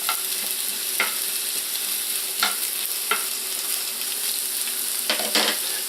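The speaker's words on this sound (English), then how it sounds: "we're actually going to saute this all the way down" Red onion sautéing in a pan, a constant soft sizzle under a handful of brief stirring scrapes spaced a second or so apart, close by with no talking.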